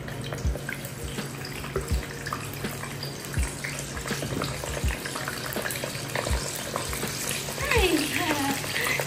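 Hot oil splattering as food fries in a pan, a continuous sizzling crackle with intermittent sharp pops and thumps nearby, a voice speaking faintly at times underneath.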